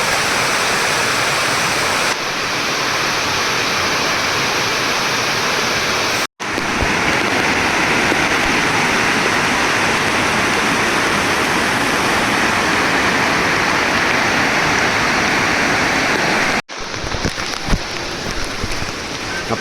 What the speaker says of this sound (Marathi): तुम्हाला आवाजावरनं समजत असेल की किती जोरात पाऊस पडतो इथे